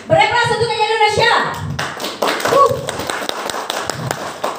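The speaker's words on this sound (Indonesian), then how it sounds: "Beri aplaus untuk Kiki Indonesia" Audience applause for Kiki Indonesia at a Glanz+ skincare product presentation by a presenter. It bursts into a dense round of clapping after a voice speaks briefly at the start, then carries on steadily to the end.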